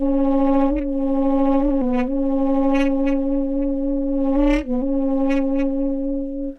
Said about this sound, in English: very short grain times introduce a ring modulation-like effect